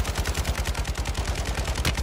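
Rapid automatic gunfire in a battle royale video game, a steady stream of punchy shots for the whole stretch, loud and alone with no talk.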